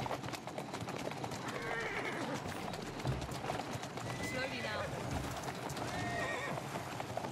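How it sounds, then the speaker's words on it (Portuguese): Horses whinnying and hooves clip-clopping as carriages brake on the streets of Victorian London in Assassin's Creed Syndicate, a busy mix with birds in the background and a voice talking over it. "Olha os cavalos freando"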